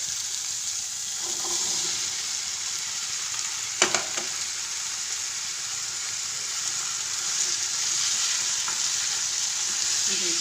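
Chillies frying in a pan with tomato paste give a steady, close sizzle with a bright hiss, broken by a couple of brief clinks of a utensil against the pan.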